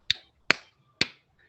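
Three crisp hand claps in an Islamic religious education lesson, evenly spaced about half a second apart, sharp and close with silence between them.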